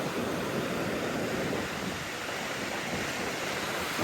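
Ocean waves at a beach make a continuous broadband roar of surf. Steady wind rumbles against the microphone throughout, and no voices are heard.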